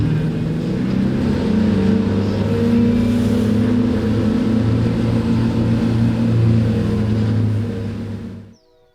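Boat engine accelerating, a loud steady low drone with a rising hum held for several seconds before cutting off abruptly.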